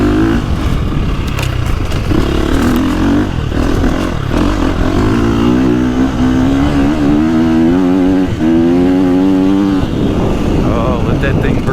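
A 2025 KTM 350 XCF dirt bike engine accelerates hard on a trail, its pitch climbing steadily through the revs with raspy clatter, loud and close, while people talk over it.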